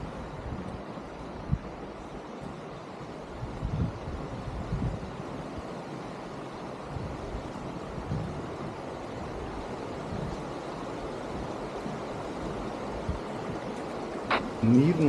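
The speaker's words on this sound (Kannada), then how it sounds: "ನೀರಿನ ಸದ್ದು ಜಾಸ್ತಿ ಕೇಳಿಸದೆ ಬಂತ ವಾಟರ್ ಫಾಲ್." Rushing water from the Kakochang waterfall near Kaziranga National Park, a broad steady roar heard from some distance with wind buffeting the mic, and people talking over it.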